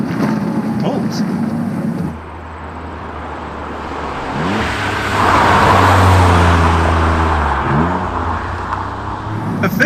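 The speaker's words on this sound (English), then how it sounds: "I can put it in third and put my foot down a little bit and it pulls." A Mitsubishi Legnum VR-4 with a twin-turbo 2.5-litre V6 pulls in third gear, its low engine note rising in pitch and growing louder through the middle, with someone talking over the start.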